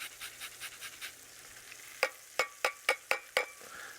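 Food browning in a hot pan, sizzling with a row of sharp stirring scrapes and clacks, close and fairly loud, no talking.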